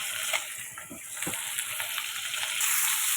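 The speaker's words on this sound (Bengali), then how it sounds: "এই আমি আলুগুলো দিয়ে দিয়েছি তেলের উপরে" Potato pieces fry in hot oil in a kadai, producing a steady, close, moderately loud sizzle with small crackling pops throughout.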